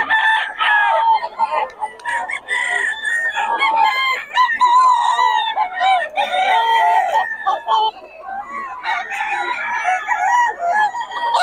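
Sweater gamefowl roosters crow loudly and repeatedly close by, their strained, drawn-out calls overlapping almost without a break.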